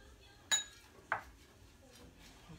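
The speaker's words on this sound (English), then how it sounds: "Okay, I'm gonna stir that around." A utensil clinks twice against a bowl while apple pie filling is stirred with honey almond granola, two short, quiet knocks over a soft, near-silent background.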